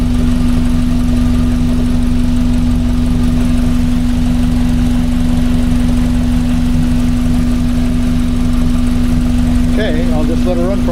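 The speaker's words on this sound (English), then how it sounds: "It's not a nice, quiet running engine." The engine of a 1982 VW Westfalia van runs rough and loud at close range, a steady idle with a strong droning hum and rattly vibration, with no speech.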